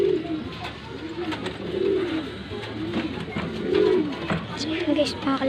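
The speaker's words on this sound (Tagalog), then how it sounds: "Yan po mga kalapatids ng patukan." Pigeons coo repeatedly at a feeding spot, their low rolling calls coming in a steady rhythm of rising and falling phrases close by, with faint rustling and background noise around them.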